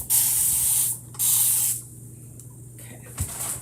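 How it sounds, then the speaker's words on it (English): Alcohol spray bottle being pumped, two bright hissing spray bursts of about a second each in close succession, followed by quieter handling sounds and a soft thump. "Spray this a little. Oop, that's alcohol."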